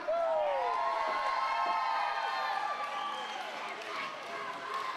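A crowd at a wrestling show cheers, whoops and shouts loudly and steadily, the noise staying up throughout with no talk standing out.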